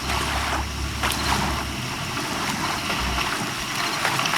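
Ocean waves and wind wash in a continuous broadband roar, with a deep rumble swelling and fading underneath. No one speaks over it.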